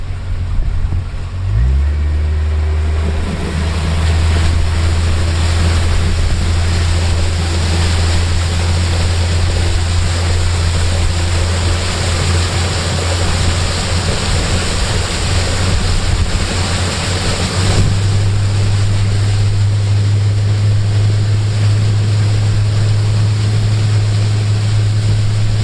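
A Yamaha VMAX SHO 115 outboard drives a 22-foot panga at about 22 mph, a loud steady engine drone with rushing water and wind that holds at one pitch after a brief shift early on.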